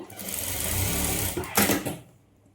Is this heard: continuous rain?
no